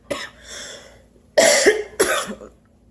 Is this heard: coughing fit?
yes